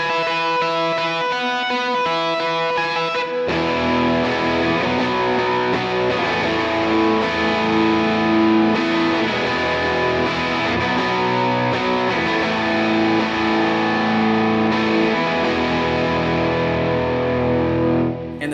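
Sustained electric guitar chords through a JET Revelation Reverb V2 pedal on its shimmer algorithm wash out into a long, shimmering reverb tail with bright high overtones ringing above.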